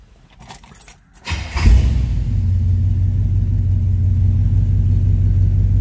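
Keys jangle in the ignition, then a 1969 Chevrolet Chevelle SS 396 V8 cranks and fires up, settling into a loud, steady low rumbling idle.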